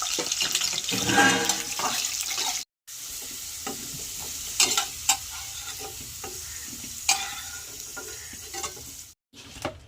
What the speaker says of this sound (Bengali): এবার আমি মুলোগুলো দিয়ে দেবো ভাজার জন্য